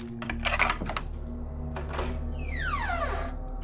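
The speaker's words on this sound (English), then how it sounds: "Alright, open the door." A door creaks open in the Asylum Nightmares horror game, a drawn-out descending squeal following a few soft clicks and clunks of the latch, heard over a steady low ambient hum.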